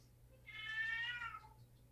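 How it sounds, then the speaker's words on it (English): A single cat meow, drawn out and rising then falling, clear and fairly close over a low steady hum, with no one talking. "At that meowing. Yeah, that was a cat."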